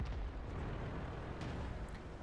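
Heavy low rumbling blasts from a 6-pounder tank gun in World of Tanks, driving an M7 tank, with broadband booming that fills the whole stretch and a couple of sharper reports over the dense in-game noise.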